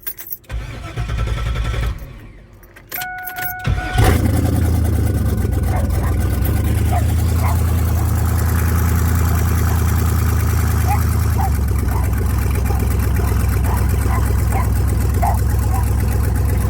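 A Chevrolet Camaro, just repaired after a wastegate incident at the track, cranks with a short starter whine, catches and settles into a loud, steady idle that runs on alone to the end.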